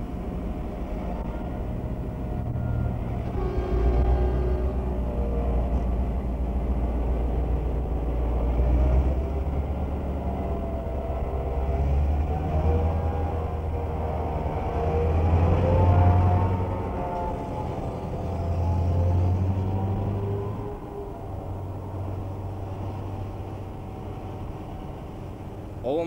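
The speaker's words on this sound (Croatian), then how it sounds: "Ovom polugom dajemo gas i lokomotiva kreće naprijed." Aluminium JŽ 611 diesel train engine throttling up and pulling forward, a steady deep low rumble that swells and eases in waves throughout, heard from inside the cab without talk.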